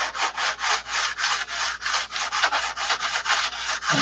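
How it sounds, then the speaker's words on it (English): A P-47 model's center section is sanded by hand: quick, even back-and-forth strokes, about four per second, close and steady for the whole stretch, with no talking. "I'll go over the whole thing and sand it again."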